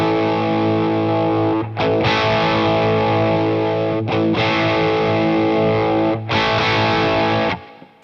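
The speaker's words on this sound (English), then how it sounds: "I'll just flick between flat and mid-hump so you can hear what it sounds like" Electric guitar run through an MXR FOD Drive pedal set to mid-hump mode, thick overdriven chords held for a couple of seconds each with short gaps between re-strikes, loud and sustained with no voices.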